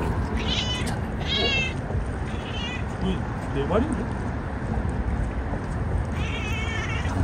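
Near, sharp warning meows from a cat guarding food against another cat that has turned up, a few drawn-out calls breaking through a steady background roar, with a person speaking briefly over them.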